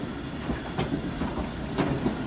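A train rolls past near a level crossing, a steady rumbling rush with rhythmic clacks from the wheels, loud and fairly close, no voices.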